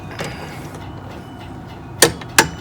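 Two sharp clicks from a socket torque wrench reaching 200 inch-pounds during maintenance on a Honda EU7000is generator, the second coming about a third of a second after the first, close and distinct over quiet room tone.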